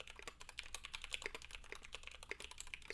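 Rapid typing on a KBD75 keyboard fitted with 67g Zealios switches, a dense stream of crisp close keystrokes at a fairly quiet level with no talking.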